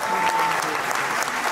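Loud applause fills a tango festival hall, a dense, steady clatter of many hands clapping close and continuous through the brief moment.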